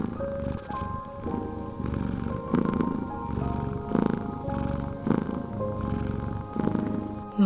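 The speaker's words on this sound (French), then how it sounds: "Je te propose de l'écouter ronronner à nouveau alors." A cat purrs steadily up close, its low rumbling rising and falling in a slow rhythm of breaths.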